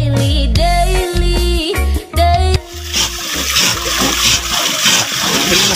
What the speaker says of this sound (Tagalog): Lakas kasi ng ulan mga kalugod.